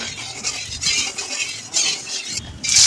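Fish is stirred in hot oil in a kadai, making soft utensil scrapes and a gentle sizzle that rise and fall in short, close bursts.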